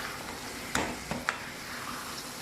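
Mutton liver frying in a pan for desi-style kaleji fry, a soft continuous sizzle broken by a few brief scraping knocks of a spoon stirring and mixing.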